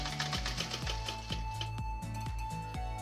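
Sewing machine stitching a backpack top handle, running steadily up close with a rapid, even mechanical rhythm and no talk.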